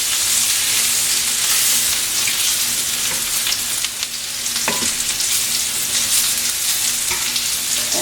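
Food browns in a pan and gets stirred: a steady, dense sizzle of frying runs throughout, broken by scraping utensil strokes, close and fairly loud, with no talk.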